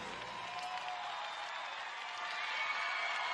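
Outdoor crowd at a speed skating world championship in Ibagué, Colombia, cheering and clapping as a steady, dense roar that holds at a constant level and swells slightly near the end.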